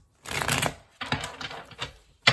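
Tarot cards being shuffled during a Libra reading, giving two close bursts of papery riffling and rustling followed by a sharp snap at the end.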